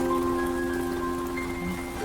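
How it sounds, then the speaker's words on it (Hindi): Heavy rain pours steadily on a truck pushing along a highway at night, a constant dense hiss with a low droning engine hum beneath, close and unbroken throughout. "ये बारिश तो रुकने का नाम ही नहीं ले रही"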